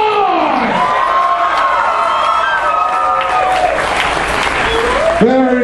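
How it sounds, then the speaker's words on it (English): Convention crowd applauding a costume contest entry, steady loud clapping mixed with cheers and a few shouted whoops throughout, a voice rising over it at the end. "so give them a big round of applause"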